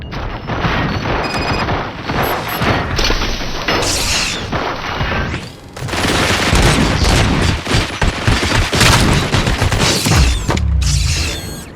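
Heavy gunfire from the video game RoboCop: Rogue City, loud close bursts of rapid shots and booming impacts with mechanical clatter, continuous across the scene with a brief lull midway.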